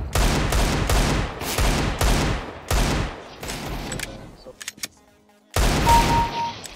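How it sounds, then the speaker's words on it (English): Rapid bursts of automatic gunfire from Counter-Strike: Global Offensive, loud and close, repeating in quick volleys that pause briefly before a final burst, with faint scattered effects in the gap. "I shot you, didn't I?"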